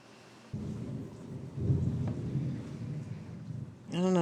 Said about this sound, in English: I don't know if y'all can hear that thunder